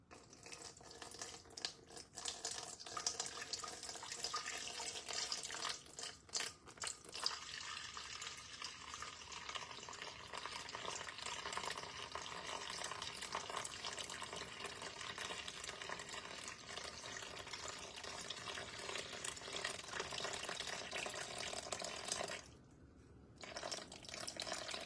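Steady stream of water running from a tap into a mixing bowl holding sourdough starter on a kitchen scale, a continuous close splashing pour for about 22 seconds that cuts off briefly near the end, then resumes.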